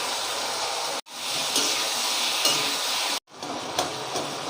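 Onions and tomatoes sautéing in a pan for a Tamil crab curry, a steady close sizzle broken by two brief cuts, with faint stirring clinks.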